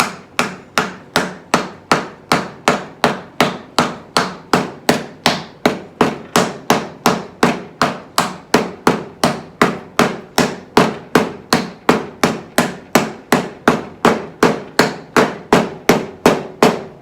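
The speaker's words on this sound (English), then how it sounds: "we'll slobber on some glue and drive the splines in" Wooden splines driven with a hammer into a freshly glued joint while building a demilune table, a long steady run of sharp, evenly spaced close blows, roughly three per second, with no talking.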